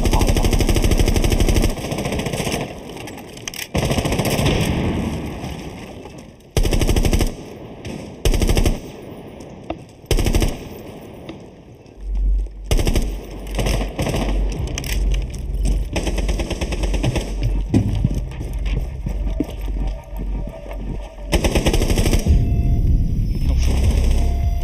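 Machine gun fire in the video game Rainbow Six Siege comes in loud, rapid bursts separated by short pauses, with a low rumbling under some stretches.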